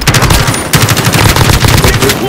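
Rapid automatic gunfire from a Call of Duty: Modern Warfare match rattles loud and close in a continuous dense burst, with a voice faintly under it.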